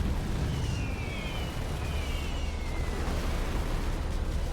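A destroyed Fatboy unit explodes in Supreme Commander 2, a sustained, loud, rumbling roar of blast noise that holds steady throughout.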